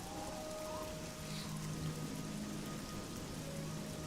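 Rain in the video game Oblivion falls steadily as a loud, even hiss, with faint tonal hums beneath it and no voices.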